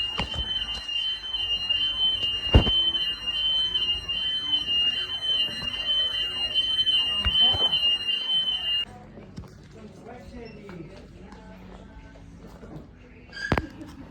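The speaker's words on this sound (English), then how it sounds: "I don't know why the alarm went off." An indoor fire or smoke alarm sounds a steady, loud high-pitched tone in a clothing shop for about nine seconds, then cuts off, leaving quieter room noise with scattered handling sounds and a brief clatter near the end.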